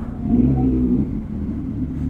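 A big bike CX-6R motorcycle engine revs at a large riders' group breakfast ride gathering, giving a steady, loud, deep rumble that holds throughout.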